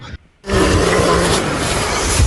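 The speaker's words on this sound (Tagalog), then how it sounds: "Dahil sa patuloy na pagpupumilit ng pagsira ng grizzly bear sa tent" A grizzly bear attacking a tent lets out a loud, sustained, raspy roar that bursts in abruptly after a brief moment of quiet and holds for about two seconds, close and harsh.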